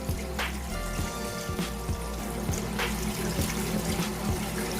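A tap runs steadily while a child washes their hands at a sink, the water making a continuous splashing trickle with faint patters as hands move through the stream.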